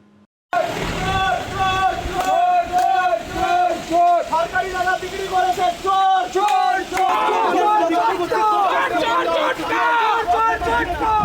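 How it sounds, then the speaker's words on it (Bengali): Protesters shout in a dense, loud crowd at a legislator facing corruption charges outside a police station, repeated rhythmic chanted phrases rising over continuous babble throughout. "বিধায়ককে ঘিরে ওঠে চোর স্লোগান"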